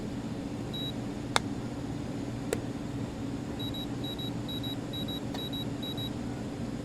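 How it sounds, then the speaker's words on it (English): Short high-pitched electronic beeps from an infrared thermometer sound in a quick series of six after a pair of earlier beeps, faint clicks in between, over steady room hiss. "it beeps differently 6 times instead of only 2 times and gives you the temperature"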